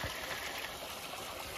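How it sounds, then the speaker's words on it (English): Linville Falls, a large waterfall in the Linville Gorge of North Carolina, roars as a steady, dense wash of falling water heard up close from the trail viewpoint, with no talking. "There it is, folks. Linville, the great Linville Falls."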